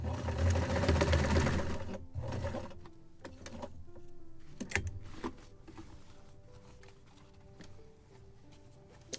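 A sewing machine stitches wet cloth linings for a Muscongus Bay lobster smack model kit, running loudly in a steady rapid whir for about two seconds, then pausing and restarting in short bursts with quieter gaps between.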